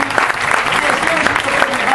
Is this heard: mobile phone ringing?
no